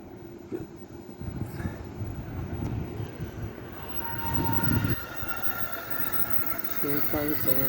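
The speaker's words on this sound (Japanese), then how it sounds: "新幹線" A Shinkansen bullet train rushes past near Sanno and Otobashi, a broad rumbling roar swelling and holding at moderate distance, with faint background voices.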